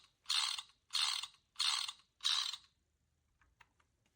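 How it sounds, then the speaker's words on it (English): Four evenly spaced bursts of clockwork whirring and ratcheting from a tilt-controlled device programmed in Python play alone, each about half a second long, followed by faint scattered clicks. "Let's tilt to the left. We hear the clockwork audio track."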